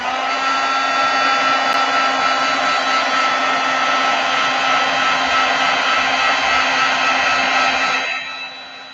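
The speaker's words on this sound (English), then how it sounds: "heat embossing will always be magical. I think it's one of the things that got a lot of people into crafting, just to see this powder melt" A heat gun blows with a loud, steady, airy roar while melting embossing powder during heat embossing in a crafting session, running continuously for several seconds before switching off and winding down at the end.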